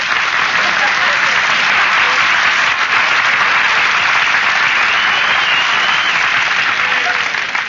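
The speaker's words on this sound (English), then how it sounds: "Nobody was supposed to applaud there." A radio studio audience at a 1943 Christmas comedy broadcast breaks into sustained, loud applause, a dense even wash of clapping that holds steady for the full stretch.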